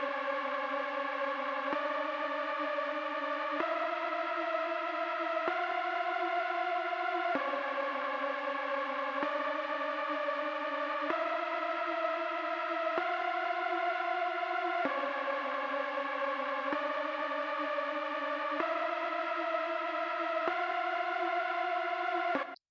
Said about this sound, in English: this sound is more like to build tension in the beat.